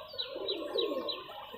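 Imported Kashri (Pakistani) high flyer pigeon chick cooing softly, a few rising, repeated calls close by over low background murmur, on a large pigeon farm.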